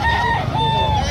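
A rooster crows loudly and close by at a rooster market, one drawn-out call with a brief dip partway through, over a low background murmur.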